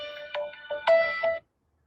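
A mobile phone ringtone plays a short melodic run of bright tonal notes, clear and fairly loud, then cuts off abruptly into silence.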